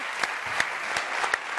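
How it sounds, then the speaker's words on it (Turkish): Studio audience clapping on a Turkish TV word game show, a short dense burst of applause with a few louder claps popping out, sustained and even throughout. "Alkışı duyayım."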